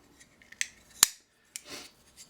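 A Strider SNG folding knife blade closes, with a few quiet metallic clicks and scrapes and a sharp snap in the middle, followed by a brief soft slide and faint rubbing.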